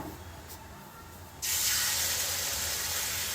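Two ladles of batter hitting hot ghee on a pan, a sudden loud bright hiss that begins partway through and holds steadily, close and alone without talking.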